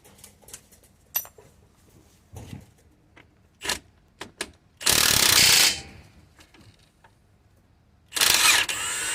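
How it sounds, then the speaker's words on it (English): A ratchet with a 21mm socket loosening front suspension strut bolts on a VW Crafter or Mercedes Sprinter van: scattered close clicks and clanks, then two loud, sustained bursts of rapid ratcheting. "Here we've got a 21mm socket. We're going to open these two bolts and the 21mm open spanner on that side."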